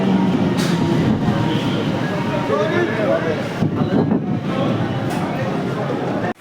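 A local train to Howrah rumbles steadily along the tracks, loud and continuous from inside the carriage, with a brief dip near the end.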